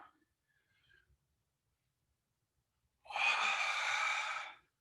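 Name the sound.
forceful Ujjayi breathing with hissing sound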